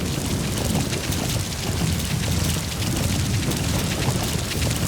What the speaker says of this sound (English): Sound of rainfall should help to mask your footsteps.